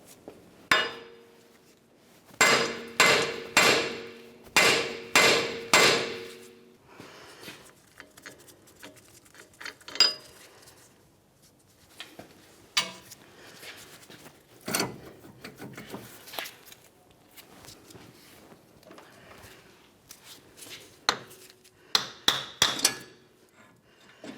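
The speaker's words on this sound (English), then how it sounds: "it's common to use a hammer and give it a couple taps" A hammer strikes a wheel bearing and hub assembly on a Ford Flex in quick bursts of sharp, ringing taps, first in rapid clusters, then scattered single blows with quieter clunks between them.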